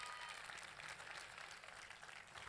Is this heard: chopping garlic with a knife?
no